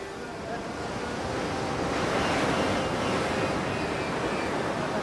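Surf breaks on a beach on the Coromandel Coast, a continuous broadband roar of waves swelling louder midway, with wind buffeting the microphone.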